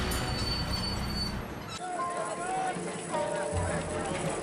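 Tram running on rails, a steady loud rumble of wheels on track with squeals and rattles, under a voice speaking throughout.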